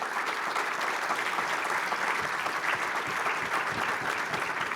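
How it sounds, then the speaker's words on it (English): An audience at a conference panel session claps for the panelists, a steady, even wash of applause from many hands, moderately distant and sustained. "I would like you to join me in giving our panelists a round of applause."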